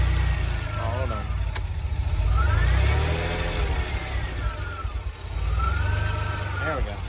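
DeLorean engine idling steadily at about 900 rpm after a slight curb idle screw adjustment, with the AC running; a continuous low rumble throughout, with faint whining tones drifting above and a voice talking over it.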